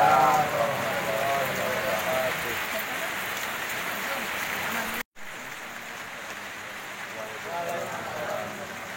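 Rain falling during an outdoor community event in Pasirheulang, Bantarsari, Subang, a steady patter on surfaces heard under a voice speaking throughout, briefly cut by a moment of silence midway.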